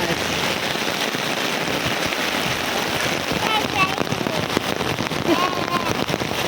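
Steady heavy rain pattering densely on an umbrella overhead, continuous and close, with faint voices beneath.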